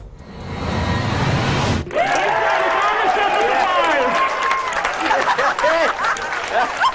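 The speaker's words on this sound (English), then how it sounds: "cheers and applause erupted at NASA's Jet Propulsion Laboratory on Monday" Cheers and applause at NASA's Jet Propulsion Laboratory as the InSight lander touches down on Mars, a loud roomful of whoops, shouts and clapping that erupts after a brief lull and stays dense.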